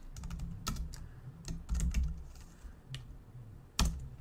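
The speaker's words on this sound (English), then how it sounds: "we really just expect to be able to type in an address" Clicky keystrokes on a computer keyboard as an address is typed, irregular taps and short bursts, fairly close and quiet with no talking.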